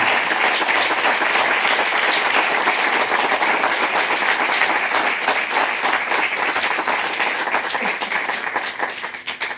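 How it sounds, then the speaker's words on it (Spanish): An audience applauds the speakers and affected people at a judges' resolution session, sustained dense clapping from a large crowd filling the whole stretch and thinning slightly toward the end. "Demos un fuerte aplauso a los ponentes"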